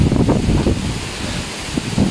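Typhoon wind in Urdaneta, Pangasinan, gusting hard against a close microphone as a loud, rumbling roar that swells and dips, with no voices.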